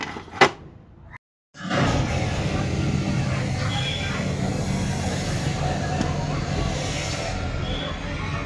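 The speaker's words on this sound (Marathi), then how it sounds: "बघू आता हे स्पेअर पार्ट मागून आपल्याला चालू करून दाखवतो गाडी." An old Hero motorcycle, just repaired after engine trouble, starts up after a brief silence and settles into a steady, loud running idle that holds through the rest of the moment, with a faint murmur of voices nearby.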